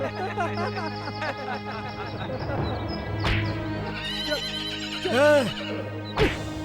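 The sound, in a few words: horse neighing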